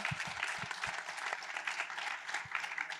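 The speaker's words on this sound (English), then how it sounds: "Please give her a round of applause." Applause for a speaker on a panel session, a fairly faint, even patter of many hands clapping across a room, continuous and without voices over it.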